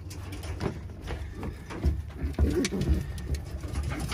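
Birmingham Roller pigeons coo repeatedly in a loft during breeding season, soft low murmuring calls overlapping at close range, with faint rustling and no talk.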